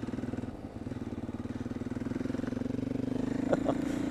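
A trail motorcycle engine chugs steadily on a Welsh trail, a close, low, rhythmic thump that slowly speeds up with a couple of brief clatters near the end, with no talking.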